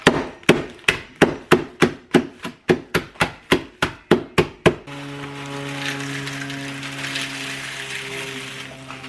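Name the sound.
chopping pretzels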